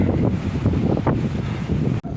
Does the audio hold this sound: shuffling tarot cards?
no